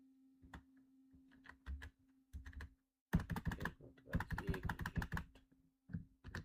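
Someone types HTML code on a computer keyboard during a web development lesson: quiet clusters of crisp keystrokes in short bursts separated by pauses, close up, over a faint steady hum.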